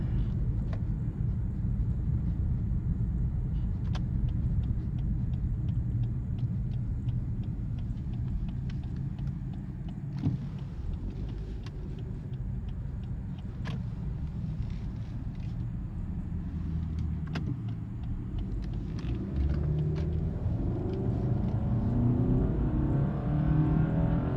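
A Lexus ES 250 AWD engine hums and rumbles steadily from inside the cabin, the drone rising as the car accelerates at about quarter throttle.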